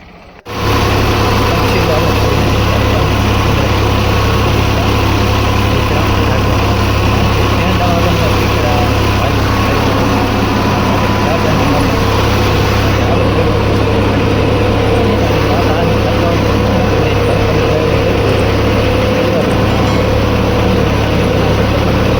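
A tractor engine runs steadily at a village fair in Chobari, a loud continuous low rumble that stays level throughout, with no talk.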